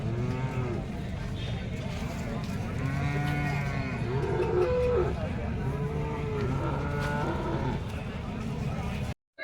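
Cattle moo repeatedly at the Seenapuram cow market, several drawn-out calls near and far over crowd noise and talking voices, before the sound cuts off abruptly at the end.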